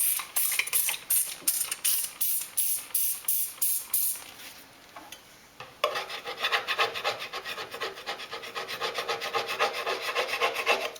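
Old wallpaper being scraped off a dolls house wall: a rapid run of rhythmic rasping strokes, then a brief lull and a steadier, continuous scraping rub, close and fairly loud with no talking.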